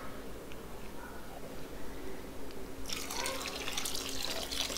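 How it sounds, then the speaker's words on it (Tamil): Water pours steadily into a pot of onion sambar, a bright splashing rush that starts partway through after a quieter stretch of low background noise. "இன்னும் 1 கப் அளவு கூட நீங்கள் தண்ணி சேர்த்துக்கலாம்."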